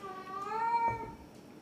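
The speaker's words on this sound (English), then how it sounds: "I've got to go sort the cat out" A house cat gives one drawn-out, rising-and-falling meow, close and clear in a quiet room, followed by a faint soft shuffle.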